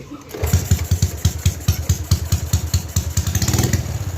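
A motorcycle engine with an aftermarket JAME exhaust fires up and settles into a loud, throaty, rapidly pulsing idle with a deep, lumpy exhaust burble close by.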